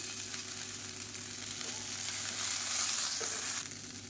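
Dried red chilies, a handful of mint and coriander leaves sauté in a pan for a chutney, producing a dense, even sizzle that swells slightly midway, with faint stirring and no speech.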